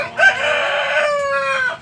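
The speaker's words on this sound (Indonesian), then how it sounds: "Ini ayam bangkok." A Bangkok rooster crows close and loud, one long harmonic call with a brief break near the end and no talk over it.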